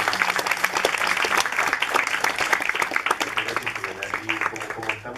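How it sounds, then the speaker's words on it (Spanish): An audience at a youth inclusion forum claps and applauds in a dense, sustained burst of many hands that carries on throughout, easing off slightly at the very end. "Entonces quiero que también le demos un aplauso a Jimena."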